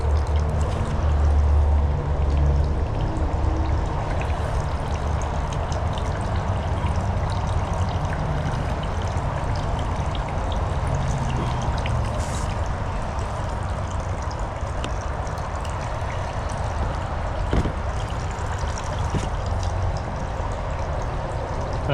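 Water runs from copper tubing in a Pee-wee frog fountain, a continuous close trickle and splash that stays steady and fairly loud for the whole stretch, with no voices.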